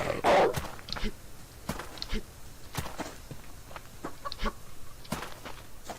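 Chicken clucking in the survival game Subsistence, with a louder burst at the start followed by scattered short clucks and footstep-like taps over faint background ambience.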